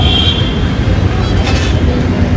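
An elevated Hyderabad metro train on the Miyapur–LB Nagar line passes overhead above a highway and market at Erragadda, a loud, steady rumble filling the scene without speech.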